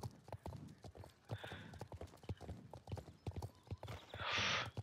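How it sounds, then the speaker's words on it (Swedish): Steady clip-clop of horse hooves trotting along in the video game Star Stable Online, with a short whinny near the end; close and moderately loud. "Här står en häst."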